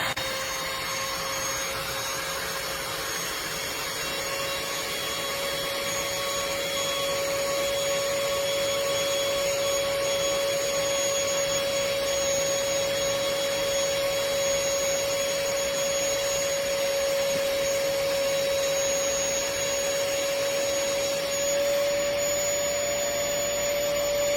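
Built-in electric pump of a full-size KNZZO air mattress running steadily to deflate it, a continuous close motor whine with a sustained tone and airy rush throughout, no voices.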